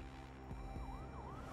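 Ambulance siren in the Fire Commander video game, a wailing tone rising and falling in repeated sweeps over a steady engine-like drone of game background noise.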